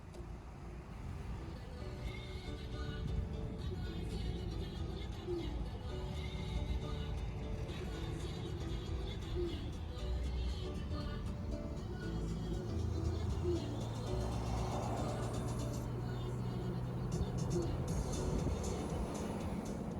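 A truck driving on a mountain road in Los Padres National Forest, a steady low engine and road rumble with wind noise throughout, plus a deeper drone rising near the end.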